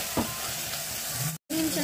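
Masala frying in a pan is stirred with a steady sizzle and scraping strokes. A brief dropout breaks the sound near the end, then the sizzle resumes close by.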